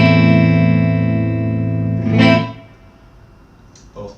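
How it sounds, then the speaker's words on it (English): A minor chord strummed once on a 1981 Martin E-18 electric guitar through a clean amp on the neck pickup, ringing loud and sustained before a scraping noise and a brief faint knock as it fades. "A minor chord, clean amp, neck pickup."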